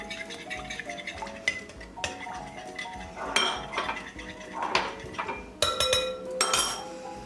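Yogurt, oil and an egg being stirred together in a bowl, with repeated close clinks and scrapes of a utensil against the dish in an uneven rhythm and no talking.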